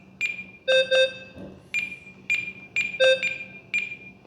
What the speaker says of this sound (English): you hear the beep, beep, beep, beep, beep, beep, boop, boop, boop